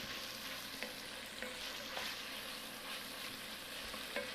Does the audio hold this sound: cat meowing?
no